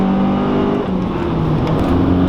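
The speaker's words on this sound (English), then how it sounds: "When you feel like it, just downshift and you're in VTEC" A Honda Prelude VTEC engine revs loudly after a downshift, a sustained, rising, close-up engine roar that lasts the whole moment.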